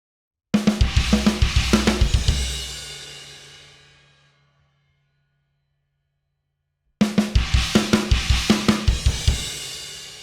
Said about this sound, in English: I did between the snare and the China in the 16th note form